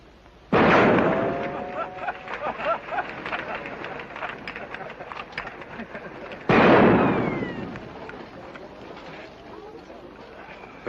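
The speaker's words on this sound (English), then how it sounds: "now watch how they shoot." Loud gunshot bursts from riders in a 1950 action film set in Tripoli ring out twice, each a sharp blast followed by fading crackle and echo, with a voice talking between them.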